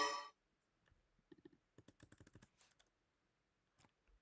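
Japanese hiragana being typed on a computer keyboard: a quiet, close run of irregular key clicks in short bursts with brief pauses, a sharper burst at the very start and a few final taps, no talking.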